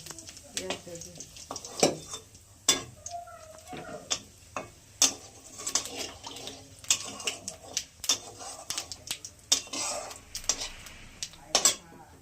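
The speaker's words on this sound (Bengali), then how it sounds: "পেঁয়াজগুলো ভেজে নিচ্ছি এখানে" Onions frying in a pan with dried red chilies in leftover potato-frying oil, a soft sizzle under frequent sharp clinks and scrapes of a spatula against the pan, with occasional voice in the background.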